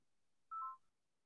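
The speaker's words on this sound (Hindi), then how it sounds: "फोन आ रहा है" A phone gives one short electronic tone, a steady beep of about a third of a second, heard alone in an otherwise quiet room during a live online maths class.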